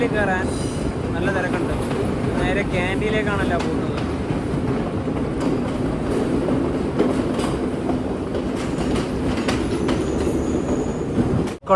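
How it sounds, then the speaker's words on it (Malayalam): Another train rolls into Colombo station, a loud steady rumble of wagons with rhythmic wheel clatter and some squeal, and a voice briefly audible early on. "ഇവിടത്തേക്ക് വേറൊരു ട്രെയിൻ അങ്ങനെ കടന്നു വരികയാണ്"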